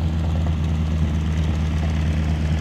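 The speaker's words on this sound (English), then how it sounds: "Band plays and the engines roar at the Guthrie Edmond Airport's Community Day." Propeller airplane engines drone steadily and loudly at an airport community day, a low throbbing hum with no pause and no talking.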